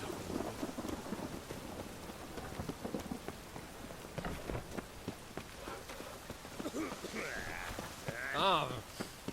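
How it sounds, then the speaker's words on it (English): Rain falls steadily in a stormy scene in the video game The Witcher 3, with soft thunder rumbling underneath; the sound is faint and quiet overall, with a brief brighter sweep near the end. "It just rains and rains."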